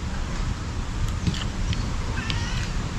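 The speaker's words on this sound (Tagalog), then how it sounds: "lumakas ang hangin" Steady roar of strong wind buffeting the microphone, low rumbling gusts throughout with faint distant sounds underneath.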